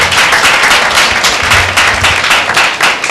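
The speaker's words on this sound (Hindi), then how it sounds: "बहन के लिए जोरदार ताली देते हैं।" A congregation at a Tuesday church meeting applauds, dense loud clapping from many hands filling the space continuously without talk.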